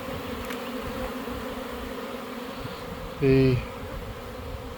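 Dense, steady buzzing of a honeybee secondary swarm around a hive in an apiary, a continuous close hum that holds throughout, with one brief louder tonal whine near the end.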